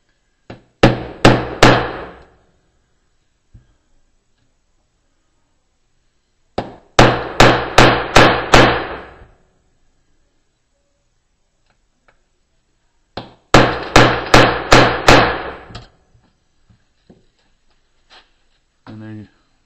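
A hammer sets a snap on a leather knife sheath over a dished anvil die, with three close, loud bursts of about five rapid metallic strikes each, separated by quiet pauses.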